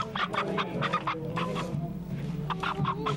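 A chicken clucks in a quick series of close, loud bursts, with a brief pause in the middle before the choppy clucking resumes.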